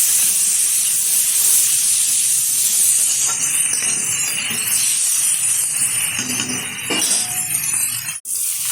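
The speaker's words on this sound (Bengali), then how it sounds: "ভালোভাবে পেঁয়াজটা ভেজে নিয়েছি আলুর সাথে।" Onion and potatoes, with tomato added, fry in a pan with a loud, constant hiss of sizzling oil that eases slightly toward the end, broken by a single sharp clink near the close; nobody speaks.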